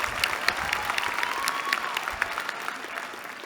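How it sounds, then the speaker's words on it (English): Audience applause at a Haas MBA commencement ceremony in May 2025, steady dense clapping from a large crowd that carries on evenly for several seconds with no voices over it. "One more round of applause."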